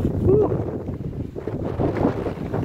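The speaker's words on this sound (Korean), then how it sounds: "바람이 지금 분다." Wind gusts and buffets across the microphone on a mountain trail in Palgonsan valley, a low rumbling roar that rises and falls steadily and sits close and loud.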